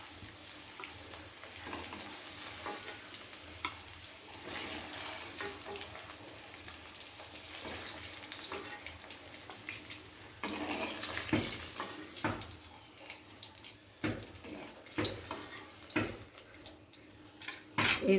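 Boiled eggs fry in hot oil with a constant crackling sizzle, joined later by sharper clinks and scrapes as they are lifted out of the pan.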